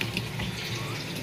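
Water pours steadily into a cooking pot for sinigang sa miso with salmon belly, a continuous broadband rush that stays even and close throughout, with no talk over it.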